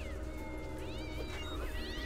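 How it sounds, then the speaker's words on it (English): Stock cat meows from the Voodoo Vince video game, a couple of drawn-out wailing calls rising and falling over a loud, constant background drone. "Shout out to like all of these stock sounds of like cats meowing."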